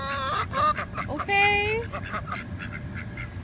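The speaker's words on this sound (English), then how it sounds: "I am literally surrounded by birds." Birds, likely geese, honking and quacking up close in a series of loud nasal calls, with a person talking briefly amid the calls.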